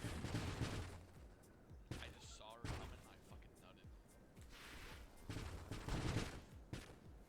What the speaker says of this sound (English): the longer I wait to fire, the better my shots will be